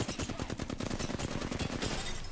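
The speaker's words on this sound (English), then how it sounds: "The other one's shooting me, Max!" Rapid automatic gunfire from the Apex Legends video game rattles in a quick burst of evenly spaced shots, fairly faint and sitting in the background with no voices over it.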